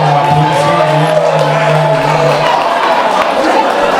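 A crowd at a gala event cheers and claps loudly and steadily with shouts and whoops. A sustained voice or held tone sits within the dense noise early on.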